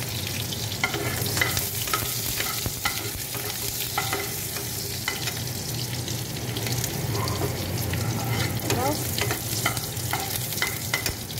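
Raw onion sizzles and fries steadily in a pan, with repeated scraping stirs of a utensil sounding up close throughout and no talking.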